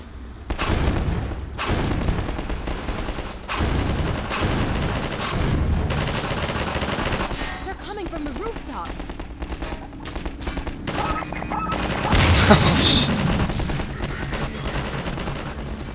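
A turret gun in Half-Life 2 Episode 1 fires in sustained rapid bursts, loud and close, with heavy impacts and explosions mixed in and brief pauses between volleys.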